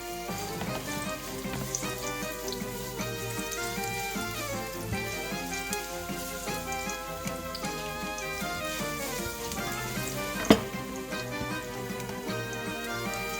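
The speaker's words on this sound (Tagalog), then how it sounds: "mainit na yung ating kawali guys. Lagay na natin yung ating bawang." Garlic sizzling in hot oil in a pan, a continuous crackling hiss under steady background music, with one sharp clank partway through.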